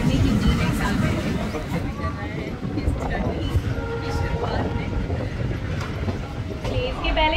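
A passenger train on the Barmer to Munabao line in Rajasthan runs with a steady rumbling roll and rhythmic clattering of wheels on track. A voice talks over it, with passenger chatter in the carriage throughout.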